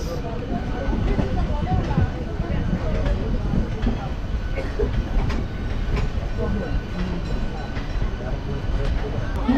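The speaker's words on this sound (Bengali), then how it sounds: "শিয়ালদহ আগরতলা কাঞ্চনজঙ্ঘা এক্সপ্রেস।" The Sealdah–Agartala Kanchanjunga Express rolls past on a neighbouring line, heard from a local MEMU passenger train in West Bengal. A dense, steady rumble with rhythmic clatter of wheels over rail joints stays loud and near throughout.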